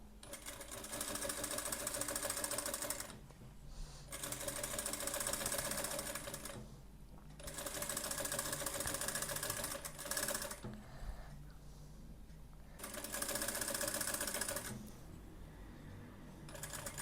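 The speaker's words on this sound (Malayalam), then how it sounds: "അപ്പോൾ നമുക്ക് ഈ സൈഡും കൂടി ഇതുപോലെ തന്നെ സ്റ്റിച്ച് ചെയ്തെടുക്കാം." A sewing machine stitches the side seam of a waistcoat in long steady whirring runs, stopping and restarting several times with brief quiet gaps, close and moderately loud with no talk.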